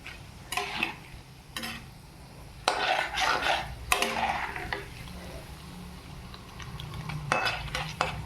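Mustard seeds, urad dal and chana dal fry in a pan for vegetable idly upma, giving scattered sharp pops and spoon scrapes over a soft sizzle, close up, with no talking.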